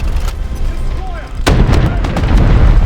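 Naval shells fire in the War Thunder Mobile game: a sharp boom lands midway and then a dense rumbling barrage continues, loud and close, with faint radio-style voices underneath.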